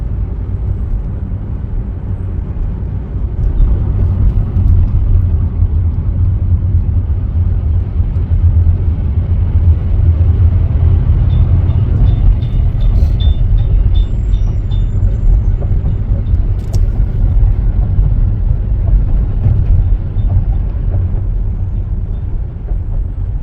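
Heavy road traffic at a bridge entrance between New York and New Jersey, a steady loud low rumble of engines with brief air-brake hisses, continuous throughout.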